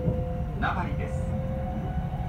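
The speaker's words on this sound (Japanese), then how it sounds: "This is the Kintetsu Limited Express Urban Liner bound for Nabari." Kintetsu Limited Express Urban Liner on the Osaka Line running after departing Haibara, a steady low rolling rumble with a brief higher whoosh partway through.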